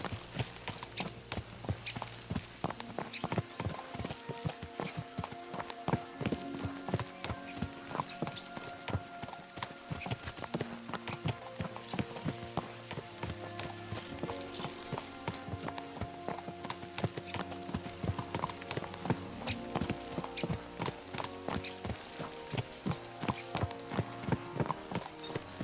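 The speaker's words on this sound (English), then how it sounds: "Let's really spur these horses on, eh?" Horses galloping in Kingdom Come: Deliverance II, a fast, steady clatter of hooves under a musical score, with a brief whinny partway through.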